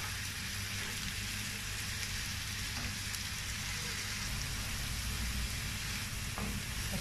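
Fresh green beans sizzle and fry in a pan while being stirred, a steady close crackle with occasional soft scraping throughout.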